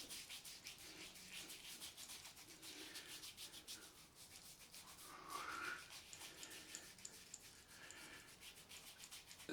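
A product is rubbed into freshly shaved skin after a straight razor shave, heard as very faint, close rhythmic rubbing and brushing with soft breathing and no speech.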